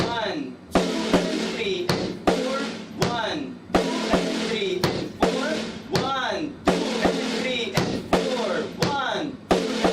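A bass drum and snare drum beat played in a steady, evenly spaced pattern of sharp hits, sounding under a voice that counts along throughout.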